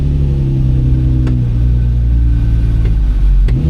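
A car engine is lugged toward a stall in third gear with the clutch engaged, giving a steady, loud low rumble that shudders and strains, with a few brief knocks near the end and no voices.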